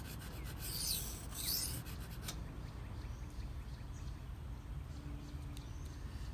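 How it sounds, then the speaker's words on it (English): Benchmade Mini Barrage knife being sharpened on a Shapton Pro whetstone: quiet, rhythmic scraping strokes of steel on stone, a brief flurry early, then a faint steady rasp. "I'm not used to sharpening this way."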